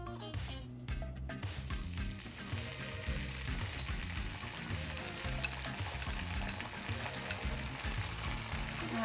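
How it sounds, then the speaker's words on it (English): Vegan butter or buttery coconut oil sizzling steadily in a pan over medium heat, a continuous crackling fry with soft pops, close and moderately loud with no talking. "On a pan over medium heat, I'm adding about 2 teaspoons of this vegan butter or buttery coconut oil."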